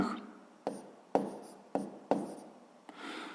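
A pen writes numbers by hand on paper in a quiet room, making a few separate scratchy strokes with short pauses between them.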